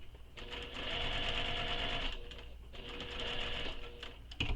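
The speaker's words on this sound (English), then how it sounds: "Now we're going to sew across using the seam allowance given in the pattern." A sewing machine stitching a seam across a crossbody bag, running in two steady mechanical bursts with a short pause between, close and continuous with a faint click at the end.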